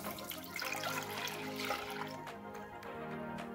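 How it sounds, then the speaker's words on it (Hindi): Milk, about one and a half cups, is poured into a pan for a bread rasmalai dessert, making a continuous close splashing gush that holds steady and then thins out. "सबसे पहले एक पैन में हम दूध डालेंगे डेढ़ कप"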